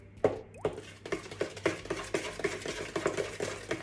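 A mango loaf batter, with eggs just added, is stirred by hand in a bowl, giving a close, steady series of scraping, sloshing strokes at an even rhythm.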